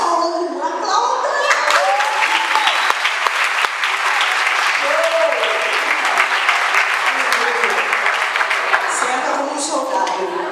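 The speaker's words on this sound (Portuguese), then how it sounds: "Aplauda!" Sustained applause from a group of people in a church gathering, steady dense clapping that holds loud and even throughout with some voices mixed in.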